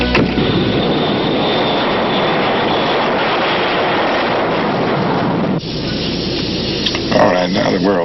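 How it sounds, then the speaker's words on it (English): Jet aircraft engine, a loud sustained roaring whine that holds steady for several seconds, drops in level partway through, then fades under voices speaking near the end. "There's a jet waiting at the airport."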